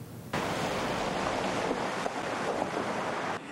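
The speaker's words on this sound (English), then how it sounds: "this burst water main continues to spew water into the street toward Main Street" Water from a burst main gushes into a Chattanooga street in a loud, continuous roaring rush that starts abruptly and holds steady before cutting off.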